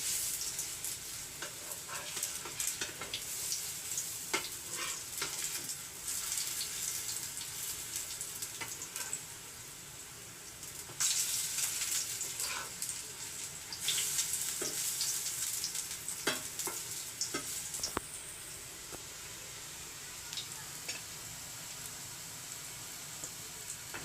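Pea kebabs fry in a pan, giving a steady crackling sizzle with scattered sharp pops and spatters, fairly soft and continuous throughout, with no talking.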